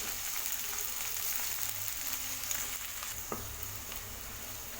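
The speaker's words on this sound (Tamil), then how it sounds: "மீடியம் ஃப்ளேம்லேயே வச்சு வெங்காயத்தை வதக்கிக்கோங்க" Onions sautéing in a pan over a medium flame for a Kerala chicken biryani, giving a steady, moderate frying sizzle with a few faint stirring clicks throughout.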